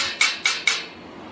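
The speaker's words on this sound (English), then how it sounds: "I got a piece of flat bar I'm gonna hit this with" A flat steel bar strikes a fresh weld three times in quick succession to knock off slag, each hit a sharp, close metallic clank with a short ring, and nothing else is heard.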